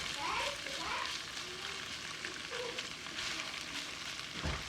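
Onions frying over medium-low heat in a pan for chicken fajitas, a soft, steady sizzle with light crackles, close and fairly quiet, with a voice talking briefly over it.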